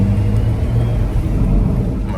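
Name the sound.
bagged BMW X3M with T51R turbo, engine running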